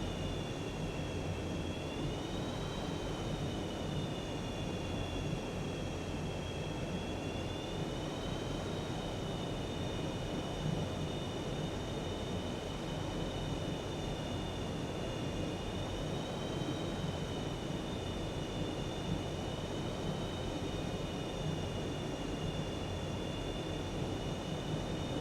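An F/A-18 Super Hornet on landing approach in a flight simulator game, a steady continuous jet engine roar with a high sustained whine that rises and falls gently, loud and unbroken, with no talk.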